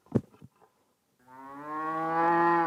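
A few soft knocks and rustles come first, then after a brief pause a cow lets out one long, steady moo that grows louder and holds to the end, close and clear with no talking.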